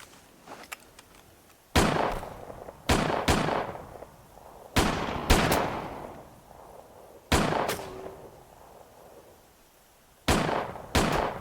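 Gunshots are fired outdoors while shooting at antlers: about eight loud sharp reports come in irregular single shots and close pairs, each followed by a rolling echo that fades into quiet.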